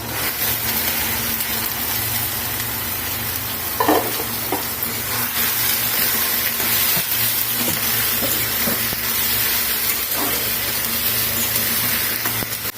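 Chopped tomato sizzles in a hot pan while cooking tomato bharta, a loud, continuous close frying hiss with occasional stirring clinks throughout.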